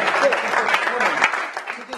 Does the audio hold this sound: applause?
yes